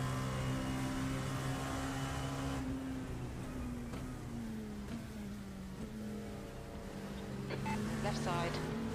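GT3 race cars in the iRacing sim roar steadily past with engine drones shifting pitch, continuous and loud throughout, with voices talking over the top.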